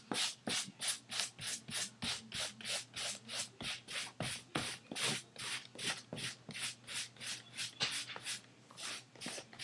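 Paint brushed onto faux leather fabric in long strokes: a steady series of about twenty close, even rasping swipes, each a short rub repeating in a regular rhythm with no talk.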